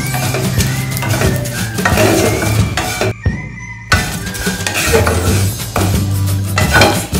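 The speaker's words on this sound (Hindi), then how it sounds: "सेवई को हल्का सा ब्राउन करने तक फ्राई करूंगी" About 100 grams of vermicelli fries to light brown in a pan, constant sizzling with busy metal spoon scraping and clinking against the pan, loud and close, briefly pausing once before resuming.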